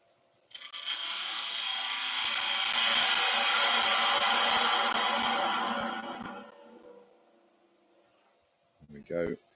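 A wood lathe spins while a tiny bowl gouge shaves a small Christmas snowman, giving a close, steady scraping hiss for several seconds before it fades into quiet.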